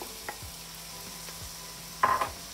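Minced meat tipped into a hot pan for spaghetti bolognese and stirred through, giving a steady low sizzle with a few utensil scrapes and a louder burst of clatter near the end.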